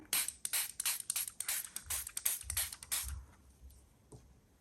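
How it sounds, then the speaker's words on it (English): A rapid series of short, hissing water spray bursts from a pump bottle, about a dozen in quick succession, close up, then quiet. "Let's help with some water spray."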